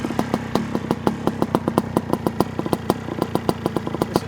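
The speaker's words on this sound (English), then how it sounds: "Listen to the exhaust note on this." A 1982 Suzuki PE175 two-stroke motorcycle exhaust pops and crackles in a steady, rapid idle rhythm, loud and close with no one talking.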